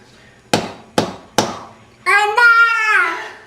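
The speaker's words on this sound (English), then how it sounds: "hammering the clay" A child hammers clay with three sharp, evenly spaced thuds, then speaks excitedly in a high voice right after.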